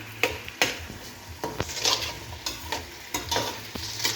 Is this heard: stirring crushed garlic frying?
yes